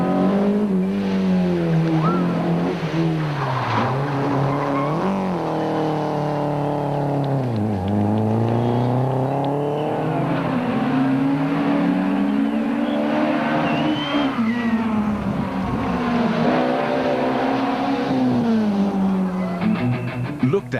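Rally cars at the 2005 Sasol Rally in South Africa roar close past spectators, engines revving hard and rising and falling in pitch as each car sweeps by, loud and continuous with faint crowd voices underneath.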